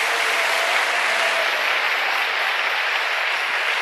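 A church congregation claps in a steady, dense, even round of applause for several seconds without letting up, with no voices standing out.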